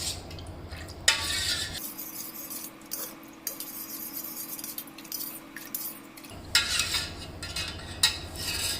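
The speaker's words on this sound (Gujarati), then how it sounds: "હવે એને સારી રીતે થોડી વાર સુધી હલાવીને મિક્સ કરી લઈશું." A spoon stirs lemon-mint sharbat with water in a vessel, giving clinking, scraping metal-on-container taps in bursts with a quieter pause between them.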